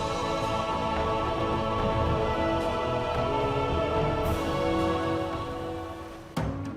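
Rain falling on Limasawa island in Southern Leyte, a steady dense hiss of drops that stays even throughout, ending with a brief sharp knock.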